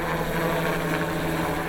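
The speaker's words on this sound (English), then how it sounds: "The sounds of hard work and chopper blades are deafening." A helicopter hovers close overhead during a Christmas tree harvest on a mountain slope, its chopper blades and turbine producing a loud, steady, deafening roar with no pause.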